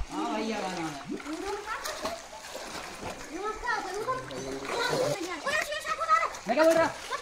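Boys bathe in a hot spring pool, and water splashes and sloshes as they move. Several voices talk and shout over the splashing throughout.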